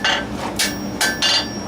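A blacksmith's hammer strikes hot steel on the anvil to forge a short, upset taper: four sharp metallic blows in an uneven rhythm, close and fairly loud, with no talking.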